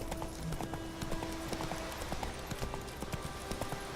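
Roach, the horse in The Witcher 3, gallops steadily with rapid rhythmic hoofbeats under game music and ambient sound.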